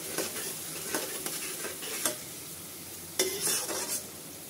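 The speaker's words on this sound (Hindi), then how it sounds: "इनको अच्छे से धीमी आंच पे 5 से 10 मिनट के लिए हम भूनेंगे।" Masala paste fries gently on low heat in a pan, giving a steady soft sizzle. A spoon stirs and scrapes through it now and then, with a few sharper metallic clinks near the end.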